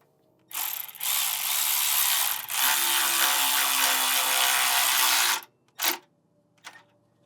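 A ratchet tightens an 8mm bolt on a 2004-2008 Ford F150 4.6L/5.4L power steering pump, giving a close, loud, fast clicking run of several seconds followed by two short bursts, with no talking.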